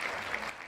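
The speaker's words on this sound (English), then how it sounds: "We'll give you some applause." Brief, faint clapping from a small audience, a short patter of applause lasting under a second.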